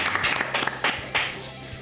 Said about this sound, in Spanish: Vamos a recibir con un aplauso, por favor, al sensei Gustavo Gondra